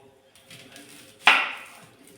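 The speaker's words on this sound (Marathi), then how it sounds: "कांदा थोडा चिरू" A single sharp knife chop through onion on a board, one crisp close impact that fades quickly, with faint background noise before it.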